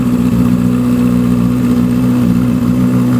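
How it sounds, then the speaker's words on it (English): A Yamaha XJR1300 custom motorcycle engine idles fast and steady from a cold start, a loud continuous low throb with no breaks or talking. "when it's idling high like this from cold"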